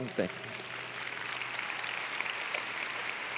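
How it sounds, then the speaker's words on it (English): An audience at the Massachusetts Conference for Women keynote applauds in a sustained, moderately distant wash of clapping, with a brief voice near the start and then continuous even applause throughout. "that applause is for the community that goes far beyond Boston"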